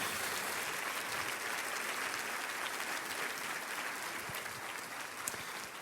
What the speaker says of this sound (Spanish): Dale un aplauso fuerte de gloria si le vas a aplaudir al Señor.